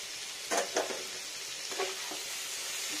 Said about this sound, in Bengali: একটু ফ্রাই হবে টমেটোটা।